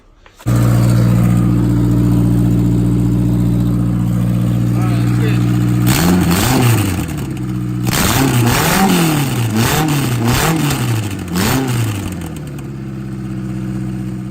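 A turbocharged Honda Civic engine turns over and catches, idles loudly, then revs up repeatedly in sharp bursts before settling back to a rough idle, close by.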